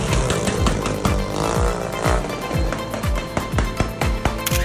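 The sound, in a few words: noisy motorcycles revving on New Year in the Philippines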